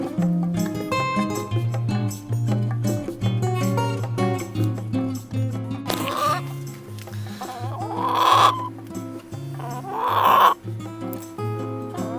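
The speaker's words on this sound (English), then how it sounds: "She raises chickens in the backyard" Backyard chickens at a house give a few loud, brief clucking or crowing bursts over steady background music.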